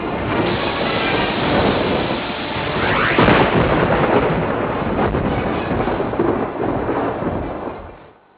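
Heavy monsoon rain in Uttarakhand pours in a dense, loud, continuous roar that swells midway and fades away at the end, with no voices.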